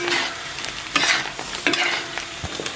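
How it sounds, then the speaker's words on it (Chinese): Scallion, ginger and dried chili stir-fried over low heat in a wok, with a steady sizzle broken by several scraping spatula strokes close by; no talking. "小火给它翻炒一下"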